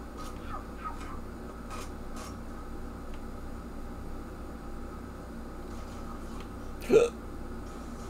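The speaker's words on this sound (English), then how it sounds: "now I've got the hiccups." A single hiccup from a man playing a Halo game, one short, sharp vocal hiccup standing out clearly near the end over faint background game noise and soft earlier sounds.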